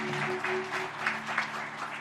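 During a Sunday worship service, a church congregation claps in a soft, scattered burst of applause heard from a distance, over a faint steady electrical hum.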